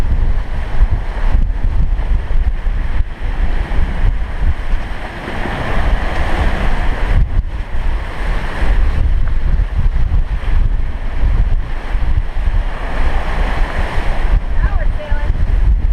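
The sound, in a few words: sailboat sailing in strong wind and waves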